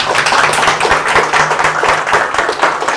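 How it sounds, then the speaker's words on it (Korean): A lecture audience claps after a history talk, dense sustained applause filling the room at close range with no speech over it. "강의해 주신 한홍구 교수님께 다시 한번 박수 드립니다."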